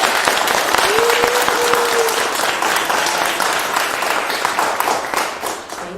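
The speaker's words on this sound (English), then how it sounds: "we should clap for that" An audience claps for the sound designer after a choreopoetic performance, steady dense applause for several seconds that thins slightly toward the end, with a faint voice briefly heard over it.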